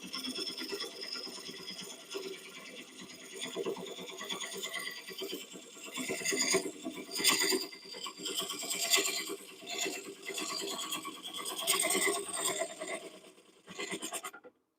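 A lathe tool scrapes and hisses as it cuts into spinning oak, a steady close rasp that swells and fades over several passes before stopping abruptly.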